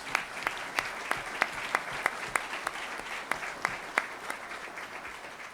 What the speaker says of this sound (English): Let's give all our government leaders a round of applause.